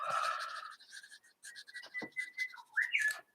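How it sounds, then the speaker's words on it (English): Bird calls outdoors, a series of clear whistled notes and chirps, some sliding up or down in pitch, fairly close and alone, ending with a sharper rising whistle. "I'm going to miss those birds. I don't know if you just heard that, but I love their call."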